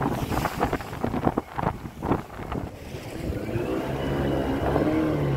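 Fishing boat cruising on the Arabian Sea off Koderi harbour, with gusting wind rumble and splashing water, settling into a steadier engine drone toward the end.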